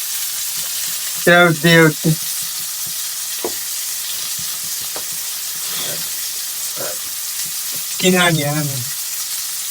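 Fish frying in a pan gives off a steady, close sizzling hiss, while voices speak in short bursts over it.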